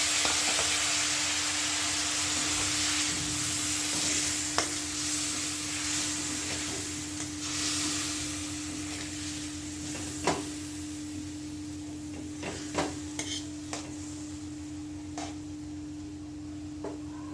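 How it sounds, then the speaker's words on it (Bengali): Spiced turmeric water for a thin katla fish curry simmers in a pan with a steady hiss and faint sizzle, broken by a few sharp clicks of stirring. "এখন মধ্যে জল দিয়ে দেবো, জল দিয়ে একটু নাড়াচাড়া করে দিতে হবে।"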